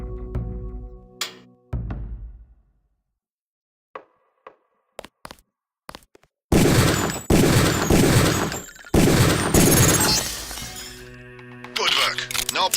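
Rifle gunfire on a training range in the Deus Ex video game: a few sharp isolated shots, then a dense burst of loud rapid reports and shattering impacts, with a voice speaking briefly at the start.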